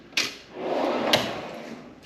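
A drawer of a Snap-on Master Series tool box slides open with a sharp clack, a smooth rolling rumble along its runners and a second metallic knock as it stops, close and alone.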